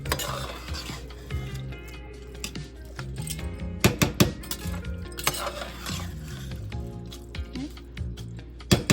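Basmati rice for a half-kilo Chennai-style mutton biryani being gently mixed from the sides of a pot, with repeated scraping, clinking spoon-on-metal knocks and soft squishy stirs in an irregular rhythm, close and alone.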